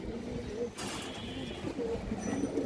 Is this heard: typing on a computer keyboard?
no